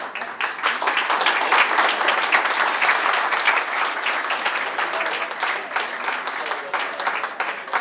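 An audience applauds after a speech, with a dense, sustained round of clapping that stays loud for several seconds before tapering slightly.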